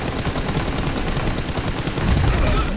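Dense, continuous gunfire in PUBG Mobile rattles close and loud throughout, with heavier bursts near the end and no clear pauses between shots.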